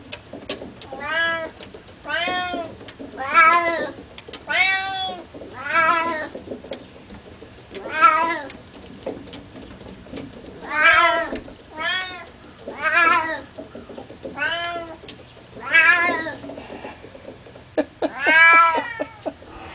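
Cats meow around toy exercise wheels, with a series of distinct, fairly loud meows repeating at irregular intervals of a second or two, close by and mostly free of talk.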